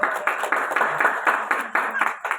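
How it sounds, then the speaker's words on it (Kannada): A church congregation at a Kannada-language Calvary Preeti Ministries service in Bidar claps loudly, a close, dense stream of hand claps with a steady pulsing rhythm throughout, no voices over it. "ಚಪ್ಪಾಳೆ ತಡಬೇಕು ಜೋರಾಗಿ"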